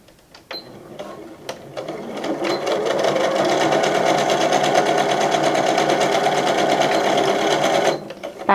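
Sewing machine stitching a bag with backstitching, a close mechanical rattle that starts with a few short bursts and then runs fast and steady for several seconds before stopping, with no talk.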